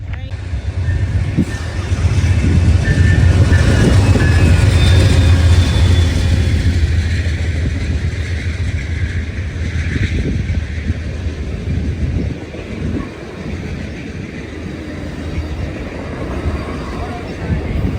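A loud, steady rumble of a passenger train with sleeper cars rolling along tracks toward Washington, DC, heavy low-end roar with rattling, rising after a few seconds and easing slightly later.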